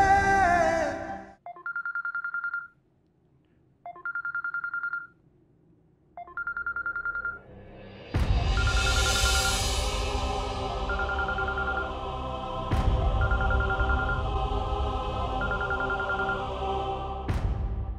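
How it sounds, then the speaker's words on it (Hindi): A telephone rings in short repeated bursts with pauses between, then continues more faintly under a loud, steady background of music and noise. "अजमिया मेरा फोन नहीं उठा रही है।"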